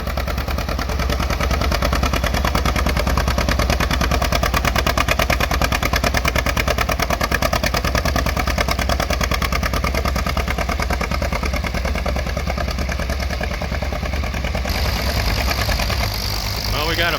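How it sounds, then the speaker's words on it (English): A Farmall M tractor pulls a three-bottom John Deere plow in the Palouse, its engine running in a steady, loud, rapid putter that stays constant throughout and fills the foreground without pause. "we got a Farmall M pulling a John Deere plow. He seems to have everything dialed in pretty well. He's humming right along with 3 bottoms."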